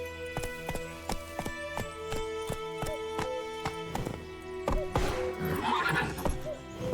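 Roach, Geralt's horse in The Witcher 3, whinnies repeatedly while hooves clip-clop in a steady galloping rhythm, with game music and ambience beneath and a burst of louder action near the end.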